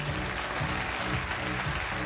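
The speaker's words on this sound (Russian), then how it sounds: "Бурные аплодисменты!" Enthusiastic audience applause at a contest award ceremony, a dense steady wash of clapping with no voices over it.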